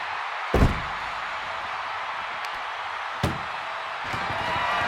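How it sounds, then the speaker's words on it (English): Ambulance door slammed shut during a wrestling video game ambulance match, two sharp heavy impacts about three seconds apart over a steady arena crowd roar. "This is a hell of a struggle, just trying to close one door."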